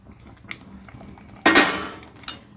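Sautéed vegetables tipped into a pan of paneer curry in a home kitchen, giving one loud clattering, sizzling burst of metal and food landing, with faint utensil clinks before and after.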